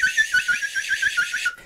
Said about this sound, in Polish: Te drobniutkie makarony to też takie gwizdki.